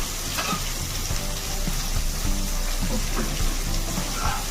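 Chopped onion and green chilli fry in a pan for an Odia-style chilli paneer, a steady, close sizzle with bubbling crackle and occasional stirring knocks throughout.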